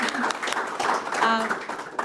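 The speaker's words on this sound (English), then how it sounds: "Can we just have one big round of applause just to thank him one more time?" An audience at an architecture and archives talk gives a short round of applause, a moderate wash of clapping blended with a voice or two under it.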